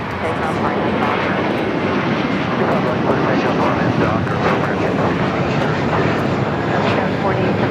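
An American Airlines plane takes off from runway 25 right at LAX, a loud, continuous broadband jet roar that stays close and powerful for the whole stretch.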